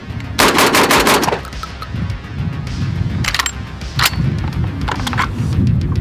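A 12 gauge shotgun fed from a 20-round drum magazine fires in quick bursts outdoors: a loud rapid string of close blasts, then a pause and several more shots in short clusters with ringing echoes between.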